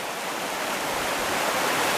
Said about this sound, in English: Here's Big Laurel Creek.